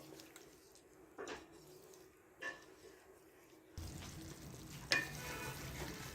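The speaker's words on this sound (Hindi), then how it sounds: "यहाँ पर अब हम इसकी 3 से 4 मिनट के लिए भुनाई करेंगे।" Chicken karahi sizzles and fries in a pan while being stirred, a soft crackle with occasional utensil scrapes and clinks, growing louder and busier partway through.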